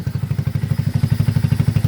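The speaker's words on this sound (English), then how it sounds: "It's idling, it's warming up." A dune buggy engine idles after carburetor tuning and a dose of starter fluid, a loud, close, rhythmic low chug with a steady even pulse and light mechanical clatter, nothing else heard.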